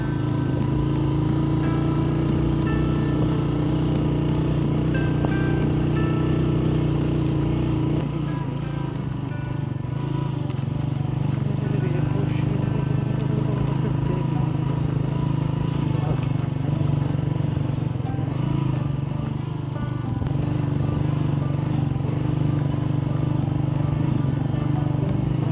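A motorcycle rides along a road with a steady, close engine drone and constant road rumble that holds evenly for the whole stretch.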